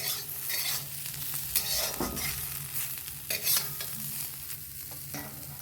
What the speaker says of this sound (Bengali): উচ্ছে আর আলু ভাজা হয়ে গেছে